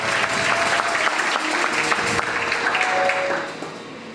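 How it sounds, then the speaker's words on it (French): A church congregation bursts into sustained applause for clergy being introduced at a French-language service, dense clapping filling the room for several seconds before tapering off toward the end. "Mbouéni Abraham sous vos acclamations."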